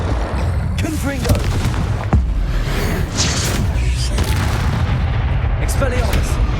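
A booming blast from the Confringo spell in the video game Hogwarts Legacy, a loud explosive impact layered over ongoing combat noise, with a voice shouting the spell name.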